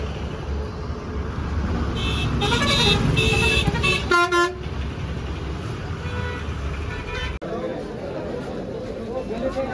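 Continuous vehicle traffic with honking during the crowded Shimga festival in a village, several horn toots clustered in the middle over a steady roadway rumble and people talking.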